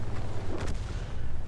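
Artillery fires in a World of Tanks tank battle with one deep, muffled boom that rumbles briefly over a steady low background of engine noise, and no talking.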